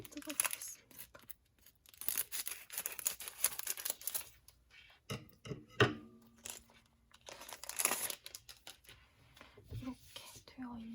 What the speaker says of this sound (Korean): 가위로 뜯어보겠습니다.